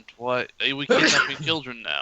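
A single sharp sneeze bursts out between lines of conversation, close and fairly loud, with voices talking just before and after it.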